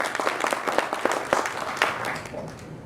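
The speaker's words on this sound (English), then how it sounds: "please give Keith Zendler a round of applause." A crowd applauds warmly for a few seconds, the clapping dense at first and then tapering off.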